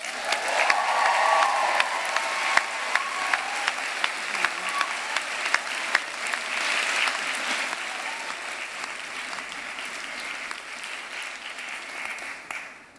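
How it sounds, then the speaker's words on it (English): A large crowd at a university graduation ceremony claps in a long, loud, dense burst. Sharp individual claps stand out near the front, and the applause slowly thins and fades away over about twelve seconds. "practice raucous cheering"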